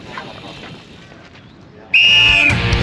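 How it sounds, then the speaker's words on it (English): A single sharp, loud whistle blast sounds near, starting a bike race at a criterium league round, lasting about half a second over outdoor crowd noise. "so you'll go on the whistle."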